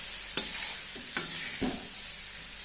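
Soaked flattened rice (poha) stirred gently in a pan on low heat, with a few distinct scraping strokes of a spoon over a soft, quiet sizzle, close and alone.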